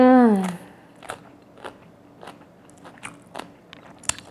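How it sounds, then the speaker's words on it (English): Green papaya salad with bean sprouts mixed into a rice bowl is chewed in close, crisp bites, a series of about six sharp crunches spaced roughly half a second apart after a brief opening tone. "Do you hear the crunch?"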